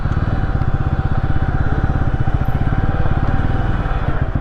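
A motorcycle engine idling loudly and close by while being parked at a hotel on a night road trip, its rapid, even low thrum running steadily throughout with no talk.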